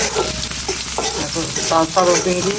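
Poppy seeds fry loudly in a pan, with close, busy sizzling and crackling mixed with stirring scrapes throughout.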